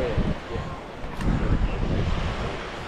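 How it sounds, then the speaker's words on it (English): Gusty wind rumbles and buffets the microphone on a beach over a soft washing background, with a brief higher swish in the middle and faint murmurs. "Bit windy where we are."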